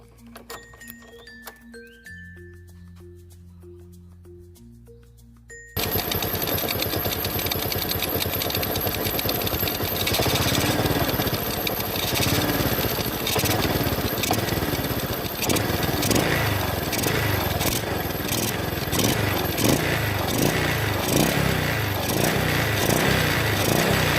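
A few soft electronic tones, then a Honda Wave 125X motorcycle fitted with a dry air filter starts and runs steadily, a loud close buzzing idle that continues to the end.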